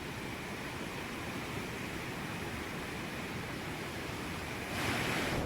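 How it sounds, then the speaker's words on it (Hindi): Bhagirathi river in Uttarkashi running in flood after days of heavy rain, a dense, steady roar of rushing water that swells louder near the end, with no voices over it. "नदी जो है उफान में बह रही है"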